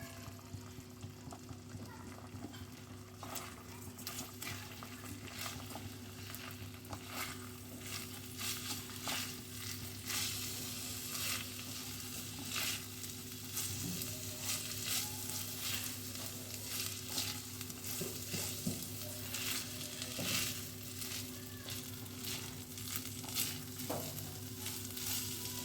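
Soaked rice for chicken tehari fries in a pot, giving a steady moderate sizzle with repeated scraping and rustling as it is stirred, under a low steady hum.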